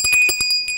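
A bell rings in a quick series of bright, metallic strikes, about seven rapid rings close and loud over a short moment.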